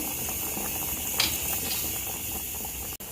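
A pot of field beans (avarekalu) simmering in water bubbles steadily with a soft, continuous gurgling hiss, close and moderate in level, broken by one brief dropout near the end.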